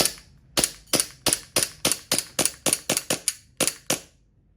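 A Glock 19 Gen5 gas blowback pistol fires about fourteen sharp, close cracks in a steady, slightly uneven string, each with a brief clatter of the slide, then stops.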